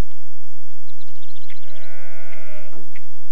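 A cartoon sheep bleats in a quavering, drawn-out cry near the middle of a farm scene, preceded by light chirpy background sounds, with no talking.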